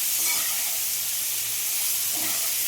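Mustard seeds, cumin and a spice mixture fry in hot oil for a quick raw mango pickle, giving a steady, close hiss and sizzle that stays even throughout with no talking.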